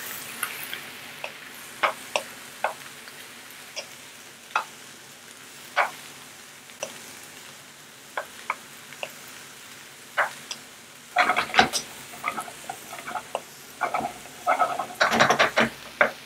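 Carbonara mix cooking in a pan gives a low simmer, with sparse ticks and scrapes from stirring that turn into a denser patch of clattering and scraping near the end.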